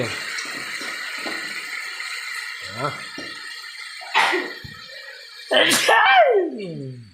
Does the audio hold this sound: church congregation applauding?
no